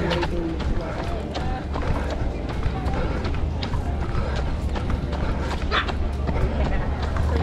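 A puppy yips and barks in short bursts outdoors during a run, amid running footsteps, a busy crowd and people talking nearby.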